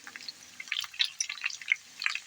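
Young corn frying in a worn frying pan whose surface has started to stick, giving soft, scattered sizzles and small pops at close range, fairly faint and without talk.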